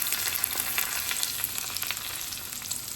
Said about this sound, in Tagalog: sizzling olive oil.